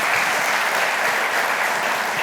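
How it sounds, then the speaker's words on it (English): A room full of people claps steadily at a business discussion event, a dense, even wash of applause throughout. "give them all a round of applause"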